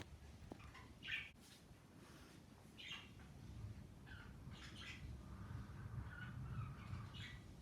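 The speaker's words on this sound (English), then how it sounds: "you can probably only hear the budgies chirping" Faint, scattered chirps from budgies over a steady low background hum, with occasional brighter squeaky bursts.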